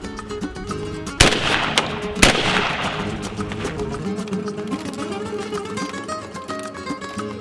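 Shotgun fired with a reloaded Fiocchi Exacta shell: two sharp, loud reports about a second apart, each leaving a brief ringing tail, over steady background noise.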